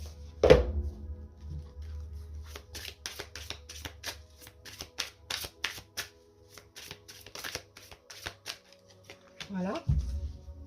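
Osho Zen Tarot cards being shuffled and drawn at close range, a quick train of crisp riffling flicks after a soft thump, ending with another card landing, while someone speaks briefly near the end.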